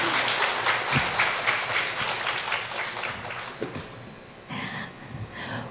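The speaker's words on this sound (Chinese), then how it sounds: "我们再次给三位老师来热烈的掌声" Applause from a lecture audience thanking three lecturers, dense clapping that runs steadily and then thins into scattered, fading claps near the end.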